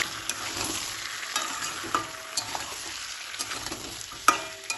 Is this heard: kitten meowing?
no